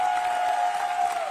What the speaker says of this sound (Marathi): टाळ्यांचा गजर टाळ्यांचा कडकडाट